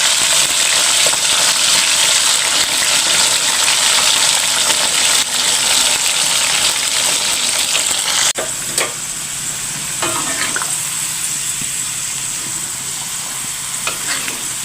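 Jengkol (dogfruit) frying in oil in a pan, a loud, steady sizzle and bubbling throughout, with a few clinks of stirring near the end as the sizzle dips slightly.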